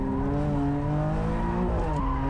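A rear-wheel-drive BMW M4 GTS slides sideways on a track, its tires squealing in a sustained whine over the strained engine note, with the pitch shifting as the slide goes on.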